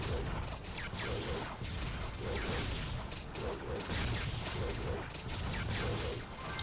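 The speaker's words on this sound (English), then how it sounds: "my light chaser, or my eternal light, is just burning through these blue robots" Light chaser weapon in Survivor.io tearing through blue robots: a dense, continuous wash of crunching impacts, whooshes and mechanical clatter, loud and unbroken throughout.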